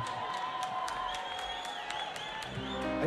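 Studio audience applauding and cheering as a guest named Carlijn comes on, a steady dense wash of clapping and crowd noise with music underneath, continuous and fairly loud throughout.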